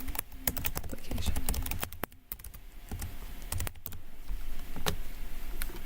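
Close, quick keystrokes come from a computer keyboard as a short phrase is typed into an application form, the taps falling in uneven bursts with brief pauses.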